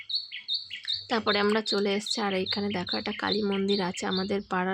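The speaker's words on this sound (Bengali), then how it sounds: "আর দেখো পাখিতে ডাকছে, এত সুন্দর লাগছে না আওয়াজটা।" Birds chirp and tweet repeatedly in a large tree beside a neighbourhood Kali temple, their calls bright and fairly close, running under a person speaking throughout.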